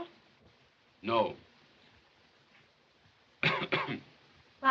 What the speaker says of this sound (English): Why do you cough?